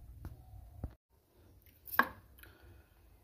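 A knife chops eggplant on a board in a home kitchen while an Odia dahi baigana is being made, giving a few sharp, close cuts spaced apart, with a louder crisp stroke near the end.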